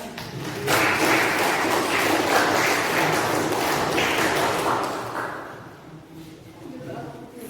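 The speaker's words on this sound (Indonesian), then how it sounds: "Oke, beri tepuk tangan." An audience claps after a classroom presentation in a steady, dense burst of applause lasting several seconds, then tapers off toward the end.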